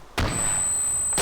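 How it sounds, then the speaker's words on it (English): A flashbang grenade goes off in a video game, an abrupt loud burst followed by a sustained roaring wash and a piercing high ringing tone that lasts about a second. "Whoa, flashbang."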